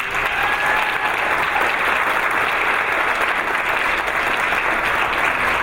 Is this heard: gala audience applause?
yes